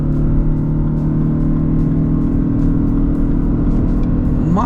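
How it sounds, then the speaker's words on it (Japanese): A Lexus LBX accelerates hard with the throttle floored while merging onto a highway, its engine drone steady and loud with a rising tone near the end, road and cabin noise constant throughout. "まずね、ちょっとここの合流加速やってみましょうかね"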